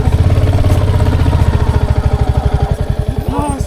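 A motorcycle engine runs loud and close, its exhaust pulsing in a fast, even rhythm that sharpens into distinct beats toward the end.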